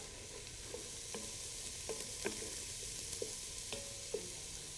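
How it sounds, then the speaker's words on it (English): Onions sautéing in a pan, a steady soft sizzle broken by a scattering of light clinks and scrapes from a utensil, fairly close and quiet, with no voices. "Just going to saute those onions"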